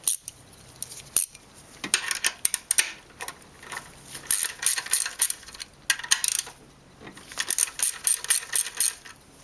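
Access plugs come off the Vanos unit of a BMW E36 engine, giving sharp metallic clinks, taps and rattles in irregular close bursts with short pauses between them.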